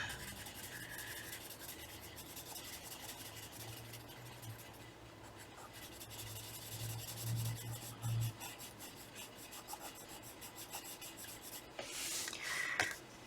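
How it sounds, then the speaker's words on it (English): A blender pencil rubs over paper in a coloring book, a soft, continuous close scratchy rasp with faint strokes, quiet and steady throughout. "just use a blender pencil"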